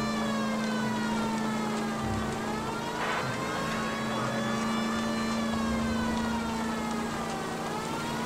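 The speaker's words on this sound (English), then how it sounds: "I better switch on the siren." A police car siren in the video game LA Noire wails continuously in rising and falling sweeps across the whole stretch, loud and close over a steady engine hum, with no talking.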